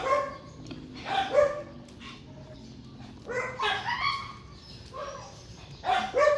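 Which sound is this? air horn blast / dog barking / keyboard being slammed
dog barking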